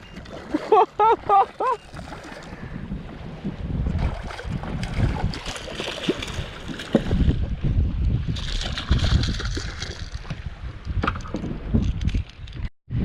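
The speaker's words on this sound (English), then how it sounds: "It is insane how windy it is out here." Strong gusty wind buffets the microphone in heavy rumbling bursts, with water splashing around a small boat and a voice speaking briefly at the start.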